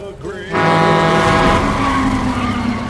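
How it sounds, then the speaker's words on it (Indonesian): A car drifting in the 2015 comedy film Vacation, its tires skidding and squealing in a loud sustained screech over engine roar, with voices faintly underneath. "Rusty yang terinspirasi dari Vin Diesel di Fast Furious pun mencoba melakukan drift"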